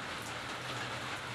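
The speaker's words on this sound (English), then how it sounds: "this week we happen to have a hurricane out in the Gulf, so we're getting a lot of rain" Heavy rain from a hurricane out in the Gulf, a dense, steady hiss of drops hitting surfaces that fills the whole moment evenly, with no voices.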